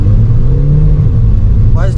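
A 2015 Volkswagen Vento TDI diesel automatic with front-wheel drive pulls away from a standstill: a loud, steady low engine drone close by, with the pitch starting to climb as it gathers speed near the end.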